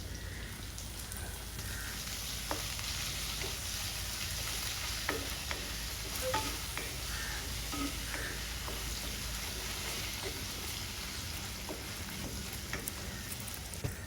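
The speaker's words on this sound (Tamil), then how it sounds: "ஃபுல்லாக 2 பக்கம் நல்லா ப்ரௌனிஷ் ஆகிற அளவுக்கு இது ஃபுல்லாக கத்திரிக்காயை அந்த எண்ணெயில் வதக்கிக்குவோம்" Brinjal pieces fry in oil and are stirred, a steady, even sizzle with occasional faint ladle taps and scrapes throughout.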